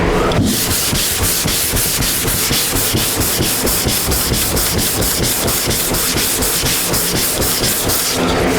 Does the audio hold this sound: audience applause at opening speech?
no